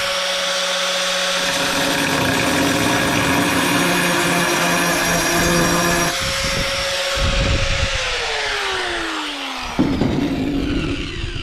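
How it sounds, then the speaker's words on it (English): Angle grinder whines loudly and steadily while cutting a round hole in tile, the high-pitched tone dropping and shifting as the blade bites in and eases off near the end, no talking. "If I had to cut a round hole like that, with my grinder"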